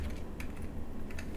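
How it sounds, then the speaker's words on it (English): Fast, irregular clicks of a computer keyboard being typed on close by, a quick run of light key taps with no voices. "the typing is really delayed"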